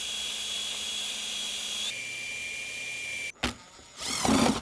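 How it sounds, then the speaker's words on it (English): A power screwdriver on a children's DIY jewellery box project whines steadily, shifts pitch partway, then cuts out with a short burst and a final louder rising whir, close and alone. "Some of the biggest screwdrivers are a little bit vicious."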